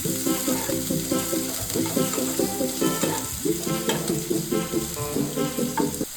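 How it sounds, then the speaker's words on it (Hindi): Finely chopped medium onion fries in hot oil with mustard seeds and cumin, giving a loud, continuous sizzle with rhythmic stirring scrapes in a pan close by and no voices. "एक मीडियम साइज के प्याज जिसे बारीक काट लिया था मैंने, इसे डालूँगी और इसे भी अच्छे से भून लूँगी।"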